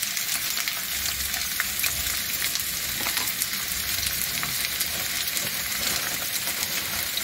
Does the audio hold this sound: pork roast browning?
yes